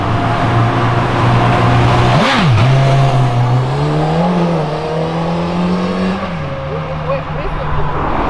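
A Renault Megane RS engine revs up on a city avenue, loud and close, its pitch jumping sharply and then climbing and easing in smooth sweeps, with voices faintly present underneath.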